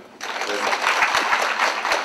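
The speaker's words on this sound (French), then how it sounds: "et sous vos applaudissements, bien sûr." An audience at an International Women's Day gathering breaks into applause, steady close clapping that starts abruptly and holds at moderate loudness.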